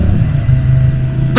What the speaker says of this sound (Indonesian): Jadi dia harus main di RPM atas biar suara dengungannya keluar tuh kan.